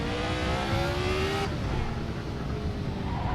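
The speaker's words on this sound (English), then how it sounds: "this definitely sounds like one" A high-revving Ford Cosworth engine in a 1970s Formula 1 car in Assetto Corsa whines loudly and steadily, pitch climbing then dropping sharply as it shifts gears, with no voices.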